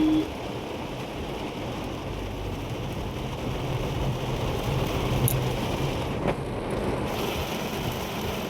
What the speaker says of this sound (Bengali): এত বৃষ্টি, নামবো কি করে, এটাই হচ্ছে ভাবার বিষয়।